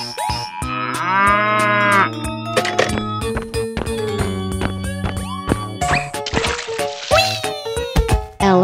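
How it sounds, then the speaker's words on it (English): Cartoon cow moos sound repeatedly in a kids' animal cartoon, loud drawn-out lowing calls mixed with bright musical tones and sound effects, with no talking. "Cow."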